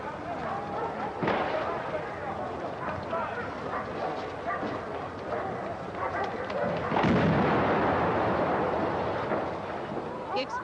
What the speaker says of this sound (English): The explosion ripped through the building.